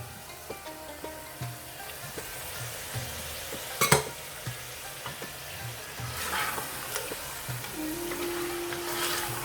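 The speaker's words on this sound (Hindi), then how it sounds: "इसके साथ ही मैं ये टमाटर भी ऐड कर दूंगी।" Tomatoes dropped into a hot pan on a full gas flame while cooking mutton achaar gosht, a steady sizzle and frying hiss with occasional stirring knocks and one sharp clatter, no talking.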